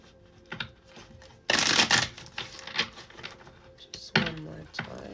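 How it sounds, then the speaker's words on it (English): Celestial Insights tarot deck being shuffled by hand, a few quick riffling bursts of card flutter with short pauses between, close and fairly quiet. "Let me give it a quick shuffle before we pull some cards."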